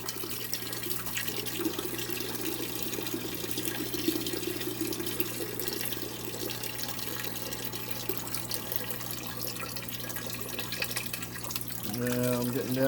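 Aquarium water and bottom mulm drawn up through a powered water changer used like a vacuum, giving a steady close watery rushing and gurgling hiss that continues throughout, with a louder, rougher burst near the end as it starts sucking air.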